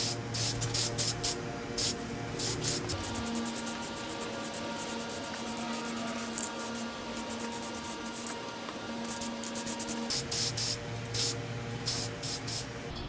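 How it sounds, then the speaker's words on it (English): Aerosol paint sprayed onto a Chrysler 9.25 axle housing in short repeated hissing bursts separated by brief pauses, close and steady, with no talk. "I'm going to go ahead and shoot this up with some paint"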